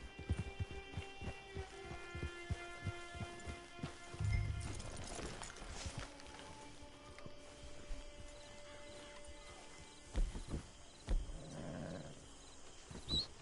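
Video game horse hooves clip-clop in a fast, even gallop near the listener, then slow and stop, with a few louder thuds and snorts near the end.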